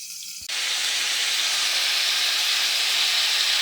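Freshly washed greens hit a hot kitchen pan with a sudden loud hiss that holds steady and bright as they saute, with no talking over it.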